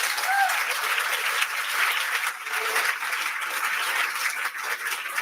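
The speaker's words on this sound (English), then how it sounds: "So can I have a round of applause for the editorial board," An audience applauds the editorial board at an academic event, a steady, dense wash of clapping that fills the whole stretch at even loudness with no talk over it.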